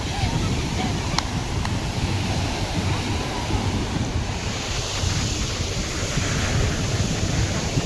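Ocean surf rolls steadily onto Sagareshwar beach at Vengurla, a continuous loud wash of breaking waves with wind buffeting the microphone throughout.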